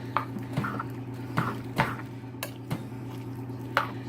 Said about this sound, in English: So I'm just going to mix it in there to make sure that it gets